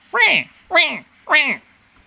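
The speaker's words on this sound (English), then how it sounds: "their rumbles sound a lot like baby alligator calls" Three short, chirping grunts of baby alligator calls, each rising then falling in pitch, evenly spaced and close by.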